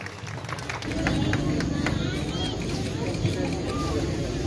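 A crowd applauding at a community Eid festival and anti-drug event, steady dense clapping that swells and holds, with a speaking voice over the audience.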